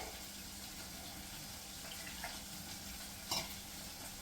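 Buttermilk curry mixture being stirred in a pot, a faint, steady wet swishing with a soft scrape near the end, no talking.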